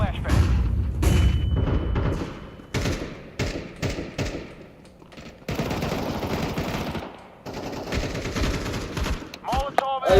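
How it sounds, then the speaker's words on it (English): Loud bursts of gunfire and explosive thuds in a tactical shooter match, with a flashbang grenade going off amid rapid firing and chatter. "Throwing flashbang."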